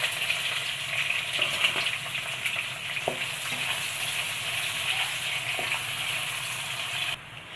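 Two large sliced onions fry in oil with whole cardamom and fennel seeds. A loud, even sizzle carries a few soft clinks, then cuts off abruptly near the end.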